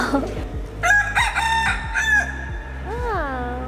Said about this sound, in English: Oh, lots of roosters in here too.